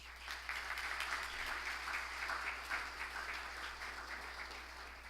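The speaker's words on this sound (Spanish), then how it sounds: "Recibamos con un fuerte aplauso al presidente del Grupo Linda, el señor Félix García Castellanos." A forum audience applauds steadily to welcome a business-group president as a panelist onto the stage, the sustained clapping filling the room at a moderate, even level throughout.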